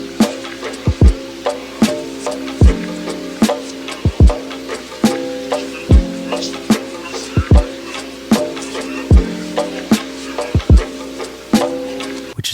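Drum samples processed with an RC20 vinyl 3 setting play a steady looping beat of deep kicks and crisp snares over crackly vinyl noise, loud and without talk.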